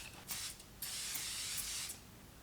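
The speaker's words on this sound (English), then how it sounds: "Spritz your face with hydrating spring water to calm, soothe, and soften the skin" Avene Thermal Spring Water face spray spritzed close up in two hissing bursts, a short puff followed by a longer continuous mist of about a second, with no talking.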